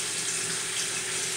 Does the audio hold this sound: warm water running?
yes